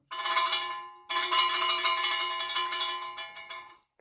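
A small bell is struck twice, ringing with a bright metallic tone; the first ring is cut short and the second fades out after a few seconds.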